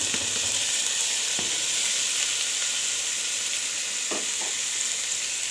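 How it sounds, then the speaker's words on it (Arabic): Rice stirred together with golden fried vermicelli in a pot for Egyptian rice, giving a steady loud sizzle with occasional scraping strokes of the spoon. "نقلب بقى كده الشعريه والرز مع بعض."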